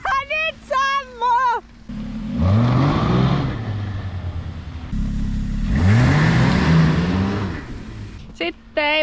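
Snowmobile engine revving in snowy outdoor terrain, two long rising surges of mid-pitched engine roar, with people talking briefly before and after the engine runs.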